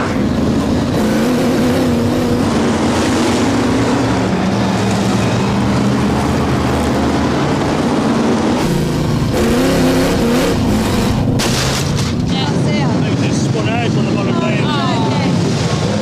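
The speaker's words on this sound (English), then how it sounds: "lots and lots of raw power as the Formula One stock cars circulate the Birmingham Oval at a tremendous rate" BriSCA Formula One stock cars circulate the Birmingham Oval at speed, their engines making a continuous loud roar mixed with heavy wind buffeting, with no break across the whole stretch.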